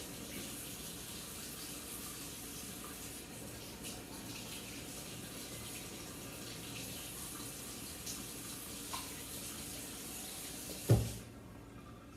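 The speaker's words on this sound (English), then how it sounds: "we're gonna run them under warm water for about 30 seconds" Warm tap water runs over popsicle molds in a steady, soft rush at low volume, with a small clunk near the end before it stops.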